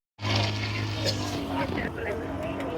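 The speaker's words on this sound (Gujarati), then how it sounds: "અમારા લોકોની બોટિંગ ચાલુ થઈ ગઈ છે." A boat's engine drones steadily over a lake in Udaipur, with voices talking on board throughout.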